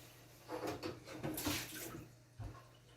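Water is poured from a tap into a container of cut potatoes in a home kitchen, a soft splashing rush in two short bursts, faint and close, with no voices.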